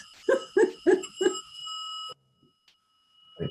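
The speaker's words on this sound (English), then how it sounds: "let this blooming clock stop chiming at me" A clock chimes with four evenly spaced ringing strikes, the final tone lingering before cutting to near silence, fairly close and moderately loud.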